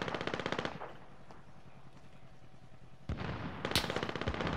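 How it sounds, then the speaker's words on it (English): Rapid automatic gunfire rattles in a shooter video game, two sharp bursts separated by a brief lull, loud and close with no talk. "Somebody's shooting him at the watchtower"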